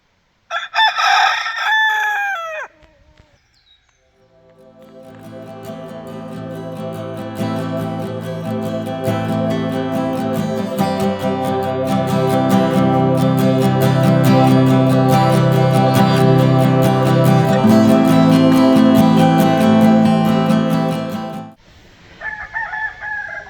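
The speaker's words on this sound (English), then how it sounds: "The cockerels are still going strong." Cockerels crow on the island of La Gomera: a short crow opens, then one long, loud, drawn-out crow dominates close by, with another brief crow at the end and no talking.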